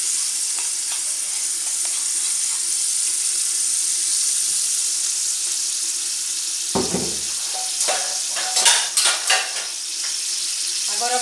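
Pork chops sauté in broth in a frying pan, a steady close sizzle running throughout, with utensil clinks and stirring knocks on the pan in the second half.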